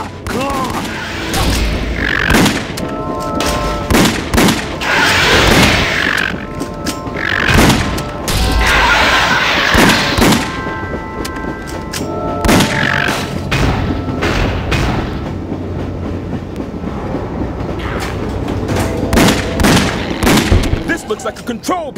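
Bursts of gunshots and heavy booming impacts in The House of the Dead Overkill on Wii, fired at a claw, loud and repeated throughout amid chaotic game noise.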